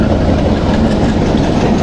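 A freight train rolls past close by, its dense rumble and rattling wagons holding steady and loud through the whole stretch with no talk over it.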